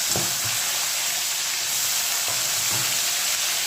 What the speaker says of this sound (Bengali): পেঁয়াজটা দেবো রসুনটা দেবো সব রসুন পেঁয়াজ সবই দিয়ে দিলাম একসঙ্গে